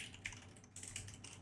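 A computer keyboard key is pressed during a GameMaker Asteroids game lesson, giving a soft click over a steady low hum and faint background noise.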